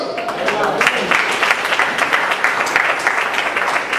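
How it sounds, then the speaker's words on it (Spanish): A church congregation applauds the Lord in a steady, fairly loud wash of many hands clapping that continues evenly throughout, with some voices mixed in. "Denle un aplauso al Señor"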